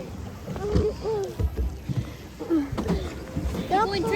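A canoe or rowboat is paddled on water, with soft splashing strokes mixed under people talking nearby and light wind noise.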